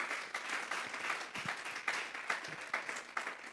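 A church congregation gives the Lord a strong round of applause, a dense, steady wash of many hands clapping that rises and falls in swells with no one speaking over it.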